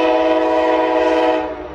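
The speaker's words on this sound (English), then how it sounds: "Big train goes, woo!" An Amtrak train sounds its horn at the small Rugby, North Dakota station, one loud, sustained, chord-like blast held steady close by before it fades slightly at the end.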